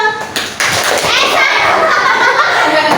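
A group of children in a classroom clap a short rhythmic pattern together, sharp hand claps mixed with their chanting voices, loud and close throughout.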